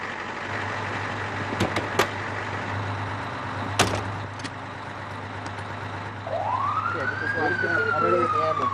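An ambulance siren starts up near the end, a rising wail that settles into a steady tone over idling vehicle noise and a few sharp knocks, during a military first-aid training exercise.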